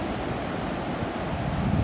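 Rough ocean waves and wind on a beach at False Cape State Park, Virginia, a continuous loud roaring wash of surf with wind noise buffeting the microphone, no voices.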